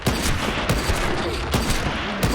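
Gunfire in the video game The Walking Dead: The Final Season, loud repeated shots in a rapid fusillade with sharp cracks roughly every half second, close and dense, with faint voices underneath.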